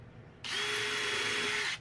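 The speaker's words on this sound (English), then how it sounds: "One last pilot hole." A power drill bores a pilot hole into wood, a short, close, high-pitched whir lasting just over a second before stopping.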